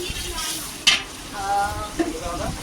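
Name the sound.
chicken with green chilies being stirred and fried in a pan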